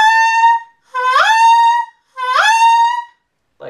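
A saxophone mouthpiece played on its own, starting with a loose jaw and tightening to raise the pitch. It gives a bright, reedy held tone followed by two scooped notes that slide upward into sustained pitches, each separated by a short silence.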